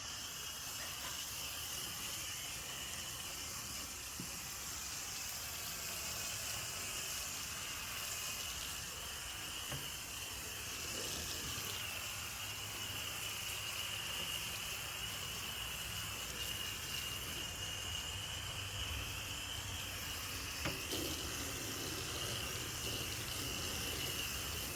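Water spray hisses steadily over a 1964-65 Chevelle SS during a rinse, a continuous close-up rush with no pauses and no talking.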